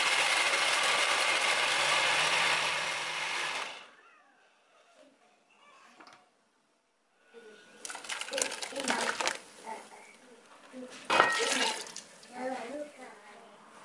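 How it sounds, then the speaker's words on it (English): A blender whirs loudly and steadily for several seconds while blending soup ingredients with water, then cuts off, followed by clattering and rustling kitchen handling sounds. "So I'm going to blend this now and then pour it into my pot of fish."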